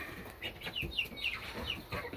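Ameraucana and Easter Egger chickens cluck softly and repeatedly close by over quiet background, a short run of low, irregular clucks.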